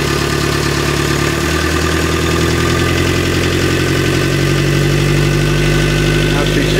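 An engine is brought up to idle for a charging system test, running with a loud, steady mid-pitched hum and vibration, while a voice talks over it.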